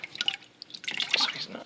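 Water drips and trickles from a squeezed aquarium sponge while a freshwater cichlid tank is being cleaned: irregular, close, quiet splashy drops that cluster into a busier patter near the end.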